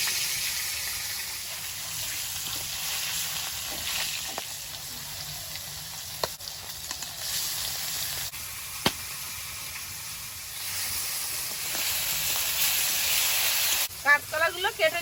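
Fish fries in smoking-hot oil in a kadai, making a continuous close hiss and sizzle with scattered small pops that grows louder toward the end.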